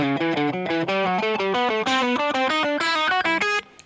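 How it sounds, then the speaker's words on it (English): Electric guitar lesson demonstration: a rapid run of fretted notes in a thirds pattern, played fast and evenly with clear, slightly distorted tone, loud and close, with no talking. "And if I did the thirds pattern with the fretted notes, it would sound like this."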